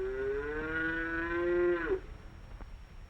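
A hungry calf on a horse farm gives one long, loud bellowing moo that holds steady and then breaks off sharply, followed by a faint click in a quiet barn.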